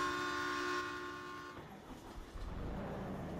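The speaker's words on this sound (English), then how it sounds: "Oh, there's the train." A train in a farming simulator game sounds a sustained horn, then the horn cuts off and the rumble and clatter of rail cars rolling by takes over, moderately distant and fairly quiet.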